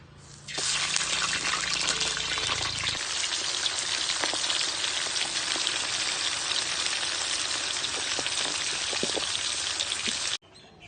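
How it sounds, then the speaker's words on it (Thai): Fish fries loudly in a pan, a dense crackling sizzle that starts abruptly, runs steady with scattered pops, then cuts off near the end. "ทอดปลาก่อนเลยครับ"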